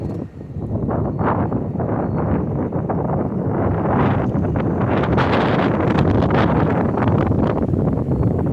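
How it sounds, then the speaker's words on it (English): Strong coastal wind at Coney Island buffets the microphone in continuous gusty rushes, with a low rumble and some rustling, no voices. "It's getting windy."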